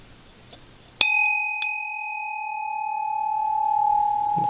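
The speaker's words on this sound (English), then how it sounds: "We have this bell, which is somewhat large." A somewhat large glass bell is struck, giving a bright clang that rings out and sustains clearly. A lighter tap follows and the tone decays slowly over several seconds.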